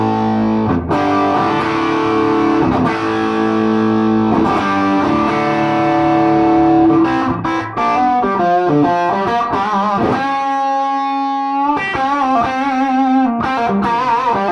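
Distorted electric guitar through a Doctor Z Octal Six tube amplifier, bridge pickup with rising preamp gain and a little reverb, plays sustained, crunchy overdriven chords and then a run of single notes, loud and continuous with no voices.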